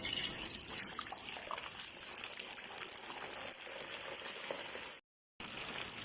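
Potato cubes frying in hot oil for a meatball curry, giving a steady, dense crackling sizzle that holds throughout and breaks off briefly near the end, with no talking.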